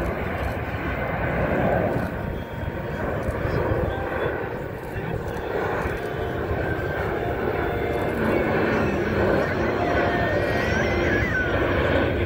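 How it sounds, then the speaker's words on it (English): A Boeing C-17 military jet aircraft flying at an air show, a steady loud engine roar filling the whole stretch with a spoken commentary voice over it. "As you can see, the aircraft is extremely agile at both high and low speeds"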